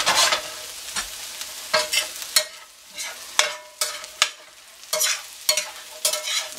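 Home fries browning in butter in a pan for a ham-and-eggs breakfast, a steady close sizzle broken by repeated sharp scraping strokes of a spatula stirring the potatoes, with no talking.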